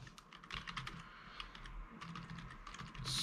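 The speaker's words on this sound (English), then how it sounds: "But if I type" Rapid, light typing on a computer keyboard, close and quiet, with irregular bursts of keystrokes and brief pauses, no talking.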